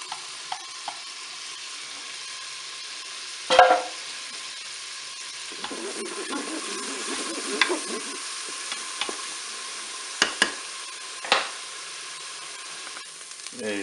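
Onion and chopped garlic cloves hitting melted butter in a Cookeo cooker pot give a soft, steady sizzle, broken by a few sharp clinks and stirring scrapes, with no voices.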